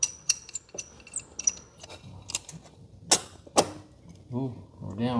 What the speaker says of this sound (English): Oh, this nut is in the way. Let me take this off.